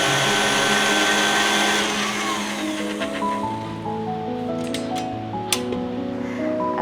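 An electric hand mixer runs on low speed, whipping cream with a teaspoon of vanilla extract for mini pavlova topping, a steady close whirring drone with no talk.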